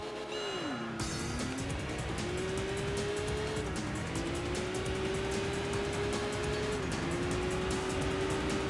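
A Honda NX race car in the Enthusia Professional Racing game gives a steady engine drone that climbs in pitch, drops on each gear shift, and climbs again. Repeated tire squeal and skid noise run through it.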